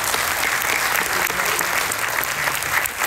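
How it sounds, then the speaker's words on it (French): Audience at a startup pitch day in France applauding: a steady, dense round of many hands clapping, close and loud throughout, with no pauses. "On peut l'applaudir, je crois."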